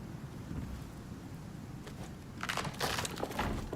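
Howling storm wind in the survival video game ICARUS, a steady low roar that swells louder and gustier in the last second and a half, with some cracking, rattling bursts near the end.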